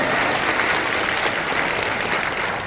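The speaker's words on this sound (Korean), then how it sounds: "우리 하나님께 영광의 박수 올리도록 하겠습니다." A church congregation at a Korean Methodist spiritual retreat claps together, a dense, loud burst of applause sustained evenly throughout.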